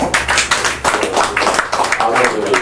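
A small group claps for a donated organ at a community gathering, with close, uneven individual claps and talking over them.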